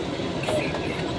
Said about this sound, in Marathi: गाइस फायनली ट्रेन आता स्टॉप घेणार आहे